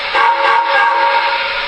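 An MTH Premier model train whistle from a NYC Niagara freight set sounds its reverse signal, a steady, loud, reedy electronic tone lasting nearly two seconds, heard alone.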